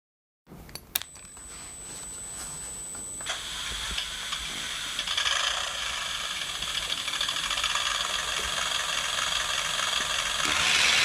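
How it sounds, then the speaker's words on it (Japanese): A motorized plastic model M3 Stuart tank switches on after a click, then a tiny electronic engine sound and whirring motor hiss build steadily and keep running for several seconds, faint and close, with no talking. "電源を入れるとエンジン音が。"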